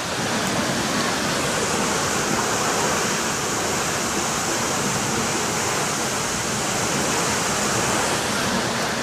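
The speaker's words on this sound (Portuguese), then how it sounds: "Essa é a famosa cascata" The Chuvisqueiro cascade in Goiás, Brazil, roars in a loud, unbroken rush of falling water that fills the whole stretch with no pauses or voices.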